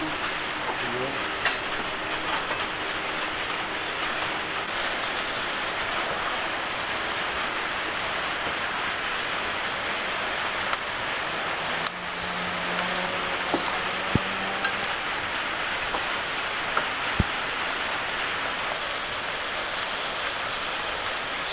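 Rain falls outdoors in a country setting, a steady, dense hiss with scattered drops tapping on surfaces throughout, with occasional faint background sounds.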